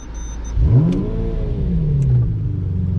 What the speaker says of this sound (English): Key in, V12 on.